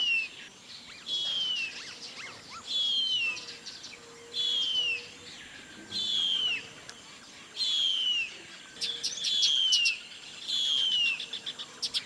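Harpy eagle chick in the Brazilian forest giving repeated high, thin, descending calls, roughly every two seconds in a steady series, moderately close over a quiet background hum.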